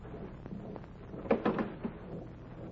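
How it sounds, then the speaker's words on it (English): A door is opened in an old radio drama: a few close wooden knocks and clunks, then a latch rattle, heard alone against a faint background. "Well, open the door."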